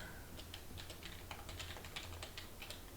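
Fast, steady typing on a computer keyboard while writing a script, with dense clicky keystrokes close by over a faint low hum, no speech.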